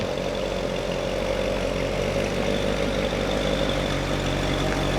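A stock 2019 Cadillac CTS-V engine idles quietly and steadily, a low even rumble with a soft hum on top, no revving.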